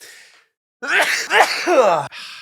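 A single close, sharp sneeze bursts out after a brief silence, followed by a breathy exhale and sniff.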